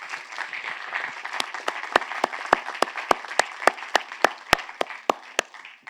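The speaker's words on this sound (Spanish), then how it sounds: "Dale un aplauso al Espíritu Santo" A church congregation at a conference applauds together, a dense wash of clapping over which loud individual claps ring out in a steady rhythm, fading toward the end.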